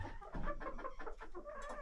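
Farmyard hens on a small homestead cluck in quick, faint, overlapping bursts, close by and without talk.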